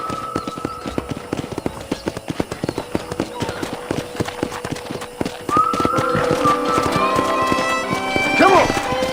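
Horses gallop with rapid, steady clip-clop hoofbeats in the Red Dead Redemption video game, joined by a whinny near the end, while a voice talks over the hooves and the sound grows fuller after the midpoint.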